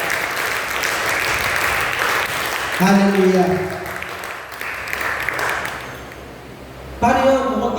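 A church congregation at a Sunday service claps in a burst of applause, with voices talking and calling out over the clapping and a tonal rise of singing or shouting near the end.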